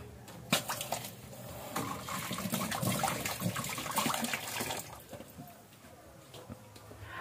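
Running water splashes and gushes as something is rinsed and washed by hand in a home kitchen while food is prepared, close and fairly soft, with a person speaking over it.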